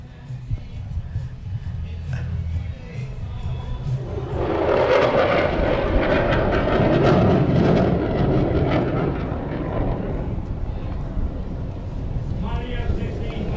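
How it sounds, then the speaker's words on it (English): Jet aircraft making a high-speed pass at the Hyundai Air & Sea Show, a roar swelling from a distant hum to a loud rushing peak and fading, under ongoing commentary voices. "we got a high-speed pass coming here"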